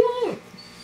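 A wolfdog gives one short, close whimper that falls in pitch and fades within a second.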